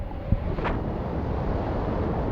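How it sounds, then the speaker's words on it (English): Steady wind rushes across an open balloon fiesta field at night, a constant broad roar with one brief faint whoosh early on, nothing else standing out. "Listen to the wind."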